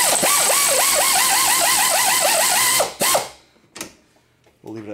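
A hand ratchet tightens a nut on a 2000 Chevy Camaro sway bar, giving a rapid, close string of clicking pulls for about three seconds, then a few scattered metallic knocks and brief clicks.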